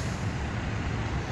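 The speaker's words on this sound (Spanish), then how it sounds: "Todos los camiones desviando por la ruta" Heavy road traffic with trucks on a highway at an accident scene, heard as a steady, loud, dense roadside rumble with no clear gaps and no talking.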